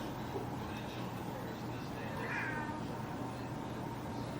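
A cat meows faintly once in a domestic room, partly buried under a steady, hissy background noise.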